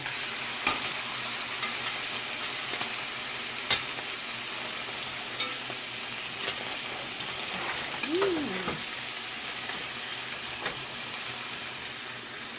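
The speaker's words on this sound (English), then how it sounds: "I'm going to go ahead and flip these babies over." Salmon fillets fry in an oiled pan with a steady sizzle throughout, with a few soft knocks as the pieces are turned over.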